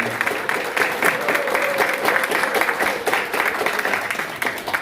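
An audience in a party conference hall gives loud, sustained applause to welcome a co-chair of the election committee, dense clapping holding steady from start to finish.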